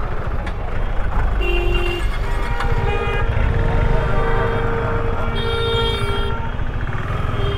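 Busy road traffic in hot weather, heard from a helmeted rider, with several car and truck horns honking and tooting over a loud, steady engine rumble, close by and continuous.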